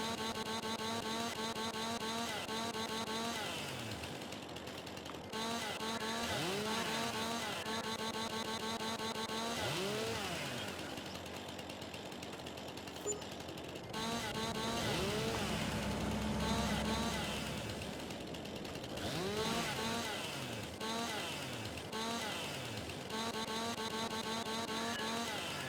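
A chainsaw trims branches in the video game Farming Simulator 22 on the Elk Mountain Wyoming map. The engine revs up and down repeatedly in rising and falling whines, loud and continuous throughout.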